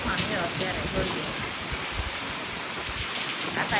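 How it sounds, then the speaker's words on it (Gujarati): A heavy, unseasonal summer rainstorm with wind and small hail pours down in a dense, steady roar of drops hitting surfaces, loud and continuous. "ચોમાસા જેવો વરસાદ વરસી રહ્યો છે"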